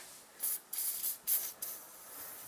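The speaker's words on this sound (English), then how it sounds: "I like to spray the rubber O-ring. Just penetrating oil." Several short hissing bursts from an aerosol can of penetrating oil sprayed onto a rubber O-ring of a Troy-Bilt 2620 snow blower carburetor, close and sharp, with brief pauses between each spray.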